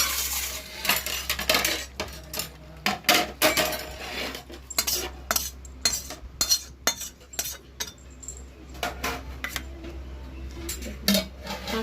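A cooking pot of lote fish curry with mustard oil lifted off the stove: scattered metallic clinks and scrapes of utensils and pan, close and sharp, in irregular bursts against a low steady hum, with no talking.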